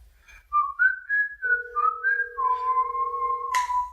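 A person whistling a short wavering tune, clear and close, with a steady lower tone joining midway and a brief noisy burst near the end.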